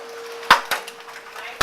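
During a hail storm in St. Louis, hailstones strike and crack the white plexiglass on a garage, giving a few sharp, close, splintering snaps separated by short quiet gaps over a faint steady hum.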